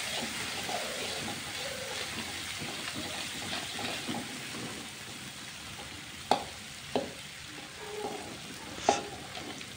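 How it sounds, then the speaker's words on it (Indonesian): Young jackfruit stir-fried in a pan gives a steady sizzle with continuous scraping and stirring, punctuated by a few sharp clanks of the utensil against the pan near the end. "Lakukan pengosengan sampai benar-benar merata dan meresap"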